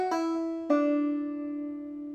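Clawhammer banjo playing the B part of Soldier's Joy with drop thumb, two clear plucked attacks whose bright notes ring and decay alone over about two seconds.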